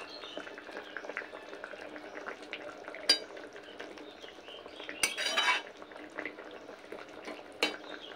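Vegetable curry with bori simmers in a pot, a low bubbling bed broken by occasional clinks and scrapes of a spoon against the metal.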